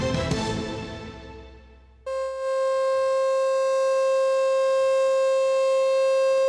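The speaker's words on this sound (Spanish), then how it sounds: "las sirenas han vuelto a escucharse en Guernica a las 4 de la tarde" Air raid sirens wail across Guernica, a fading sweep followed by a loud, steady sustained siren tone that holds evenly to the end.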